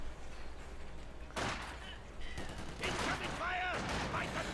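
Gunfire from a Soviet Maxim machine gun in the real-time strategy game Company of Heroes 2, heard as several separate bursts of rattling shots at moderate distance, mixed with other battle noise and thuds.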